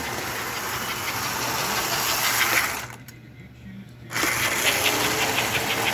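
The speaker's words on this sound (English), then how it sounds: "That's full throttle, giving it what it can take." AC/DC Atlantic model motor, a 302 toy train, running at full throttle on a small track, a steady loud whirring drone that briefly drops away before surging back.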